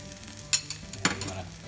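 A roux with tomato paste frying in a pan gives a quiet sizzle broken by a couple of sharp scraping stirs, close by, with no talk.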